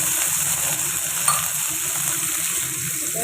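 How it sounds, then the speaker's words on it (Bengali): Food frying in a home kitchen pan before bottle gourd is cooked with five-spice, giving a steady close sizzle and crackle throughout with no talk. "ঠিক আছে, আলাদা করে ভেজে নিই"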